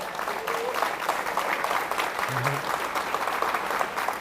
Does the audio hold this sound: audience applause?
yes